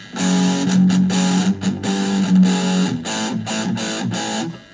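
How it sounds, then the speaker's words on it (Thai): Heavily distorted electric guitar chords through a Fender Frontman 15W amplifier ring out loud and close, played in a choppy rhythm of repeated strums with short gaps between them. "เสียงโคตรดีเสียงแตกดีมากครับ"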